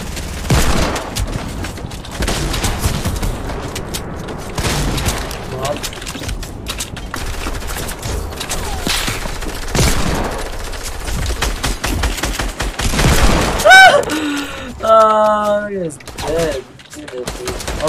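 Rapid bursts of gunfire in the video game Fortnite, loud and dense shots and booms across most of the stretch, with a voice talking over it and electronic game sounds near the end.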